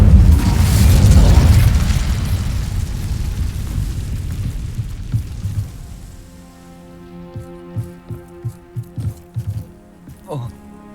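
Incendio fire spell cast in Hogwarts Legacy: a loud, roaring whoosh of flame that swells then fades over several seconds, followed by scattered crackles and small pops; a voice calls out over it.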